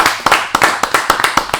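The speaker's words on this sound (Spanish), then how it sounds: "para el cual pedimos un fuerte aplauso" A short burst of hand clapping in an even rhythm, a few close claps rather than a large crowd, greeting a singer at a live performance.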